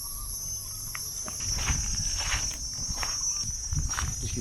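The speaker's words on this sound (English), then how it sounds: "You can hear all the insects and critters." Insects and small critters chirp steadily at a quiet hotel in Kampot, with a constant high-pitched drone and scattered faint clicks and rustles close by.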